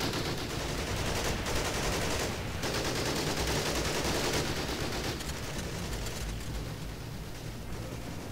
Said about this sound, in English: The towers are shooting machine gun fire at.